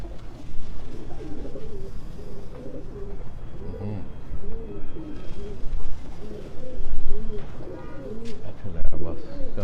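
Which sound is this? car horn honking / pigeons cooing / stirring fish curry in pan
pigeons cooing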